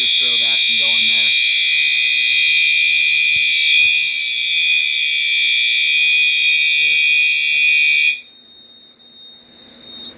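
A fire alarm set off from a pull station blares a loud, steady electronic tone close by for about eight seconds before cutting off, with voices talking under it at the start.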